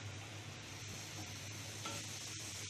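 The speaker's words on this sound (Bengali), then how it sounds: "এটা ভালো করে ভেজে নিব" Grated carrot sizzles steadily in hot ghee while being stirred for carrot halwa, a soft, even frying hiss with faint scraping throughout and no voices.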